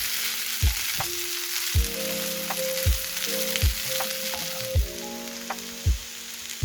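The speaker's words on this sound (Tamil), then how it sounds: "5 நிமிஷத்துக்கு அடுப்பை நல்லா குறைச்சி விட்டுட்டு தான் வதக்கணும்" Shark pieces sauté in hot oil in a pan over low heat, a steady close sizzle broken by regular scraping stirs about once a second.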